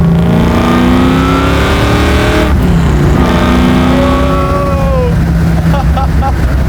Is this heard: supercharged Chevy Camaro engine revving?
yes